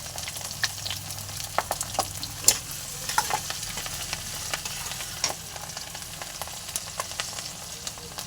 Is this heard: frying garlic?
yes